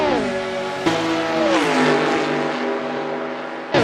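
Race cars running side by side down the Mulsanne straight at Le Mans, engines droning loudly at high revs with pitch falling through a gear change, then a sharp shift near the end.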